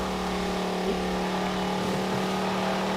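A steady VW Touareg R50 engine hum in Forza Horizon 4, with a constant droning tone, slight rises in pitch, and no voices.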